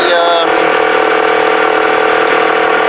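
A Kawasaki BN125 Eliminator motorcycle engine runs steadily at raised revs, a loud, close, continuous hum with no change over the few seconds.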